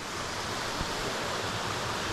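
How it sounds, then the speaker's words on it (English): A waterfall beside a mountain trail on Mt. Lafayette pours in a steady, dense rush of falling water, heard close and continuous without pause. "There's the falling water, I guess."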